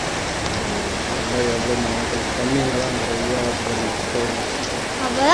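Heavy rain pours steadily onto Ullal main road in Bangalore, a dense, even hiss of water with passing traffic hum beneath, while someone talks over it throughout.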